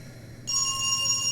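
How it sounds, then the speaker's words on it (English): Telephone ringing in the horror video game Dread Weight, starting abruptly after a quiet moment with a bright electronic trill that carries on steadily, heard alone. "The ringing echoes down the hall."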